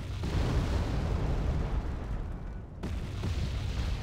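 Aircraft bombing enemy anti-aircraft units in the Wargame: Red Dragon real-time strategy game: a continuous, dense roar of distant explosions and rumbling blasts, with a brief lull before the booming resumes.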